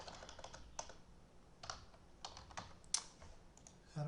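Quiet keystrokes on a computer keyboard as a folder name is typed, an irregular patter of soft clicks with short pauses, alone without voices.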